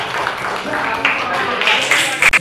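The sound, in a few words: applause for a student group presentation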